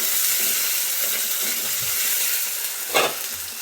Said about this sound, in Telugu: ఇప్పుడు కొద్దిగా అల్లం పేస్ట్ వేస్తున్నానండి.